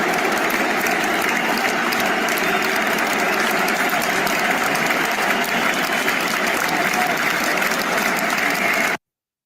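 Liverpool fans at Anfield react loudly after Trent Alexander-Arnold claps the Kop following a draw with Arsenal, a dense, steady roar of crowd noise and applause that fills the whole stretch before cutting off abruptly.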